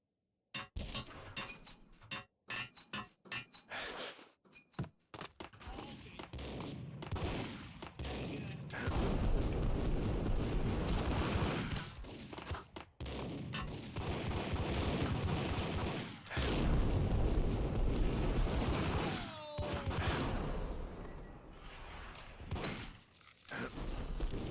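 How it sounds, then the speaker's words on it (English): Shotgun blasts boom repeatedly in the Max Payne video game, a rapid run of loud sharp shots early on with glass clinking and breaking, then dense gunfire and clatter continuing amid muffled voices. "Damn, that shotgun does work."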